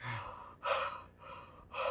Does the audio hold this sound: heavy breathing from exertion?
yes